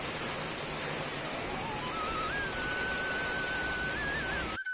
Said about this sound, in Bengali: মা বৃষ্টিটা কমিয়ে দাও মা